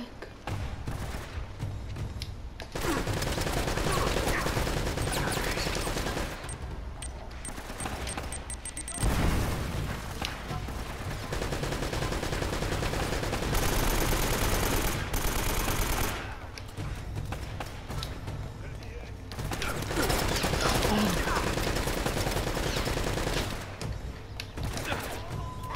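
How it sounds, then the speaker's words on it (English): Machine gun fire rattles in long, dense bursts in the video game Uncharted, loud and sustained with brief pauses between volleys and heavy in-game combat noise throughout. "What did he have, a machine gun?"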